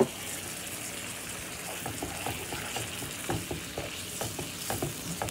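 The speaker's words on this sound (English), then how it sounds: "Pour a little water." Water hits a hot pan of caramel sauce and sizzles, a steady frying hiss broken by scattered popping crackles and bubbling bursts, close and moderately quiet.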